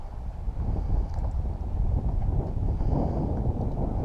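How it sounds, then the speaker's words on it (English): Steady wind rumbles and buffets on an open lake at Flaming Gorge while a Hobie Pro Angler kayak drifts during fishing, a continuous low roar close to the microphone with no other clear sounds. "we're just letting the wind drift us. a pretty good wind here"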